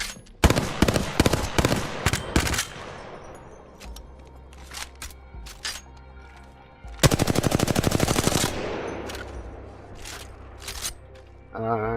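Weapons firing in the video game Apex Legends, a few sharp single shots early on, then a fast sustained automatic burst, loud and close, with someone talking between the shots.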